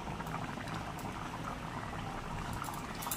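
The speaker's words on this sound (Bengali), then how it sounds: "চলো ঝোলটা এবার একটু ফুটলেই" A pot of curry gravy with potatoes boils steadily in a close, continuous bubbling and popping wash, with no talk.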